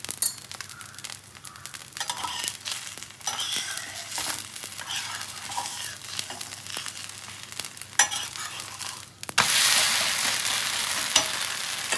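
Maida dosa frying in hot oil on a pan gives a steady, close sizzle with scattered scrapes and clinks, rising to a louder, denser hiss near the end.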